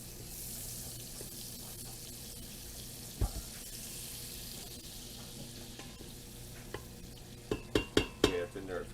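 Butter and olive oil heating in a pan, a faint steady sizzle that grows toward the end, joined by a few louder sharp knocks and clatters nearby.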